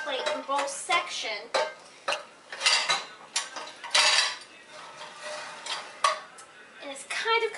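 Pans and dishes clatter and clink as they are loaded into a dishwasher rack, a close series of irregular metallic and ceramic knocks and scrapes with brief pauses between.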